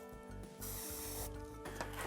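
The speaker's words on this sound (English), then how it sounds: "give my activator a good shake up, spray a little bit on the end of here" Short hissing bursts of activator sprayed from a can onto the end of a wall panelling moulding, two close spritzes separated by a brief pause.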